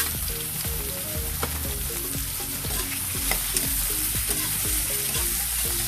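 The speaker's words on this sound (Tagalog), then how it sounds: "Igisa lang sa, mabuti sa mantika ang ating uh, chicken meat" Chicken meat sautés in hot cooking oil for ginisang upo, a loud close sizzle with repeated scraping and clacking stirs throughout.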